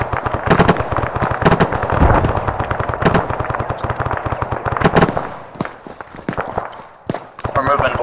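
Dense suppressive gunfire from a squad in ArmA 3, with rapid automatic bursts rattling almost nonstop at close range and dipping only briefly near the end, as a voice calls out over the shooting.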